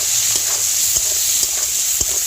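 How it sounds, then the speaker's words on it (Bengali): Large shrimp seasoned with salt and turmeric fry in a pan with a loud, constant hiss, while occasional light scrapes and taps of stirring break through. "এবার একটু ভালো করে ভেজে নেব।"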